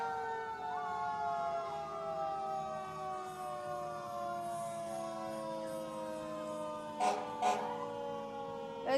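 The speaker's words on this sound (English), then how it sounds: "It's Rollingsford's fire forestry truck." A fire forestry truck's siren at a town parade, a loud sustained wailing tone that slowly slides downward over several seconds, with a couple of brief horn blasts near the end.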